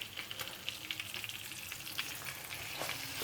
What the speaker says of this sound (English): putting it on the frying pan